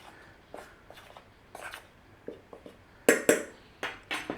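A utensil stirs flour, baking powder and salt in a bowl, giving a string of light scraping taps and clinks that grow sharper and louder toward the end, with no talking.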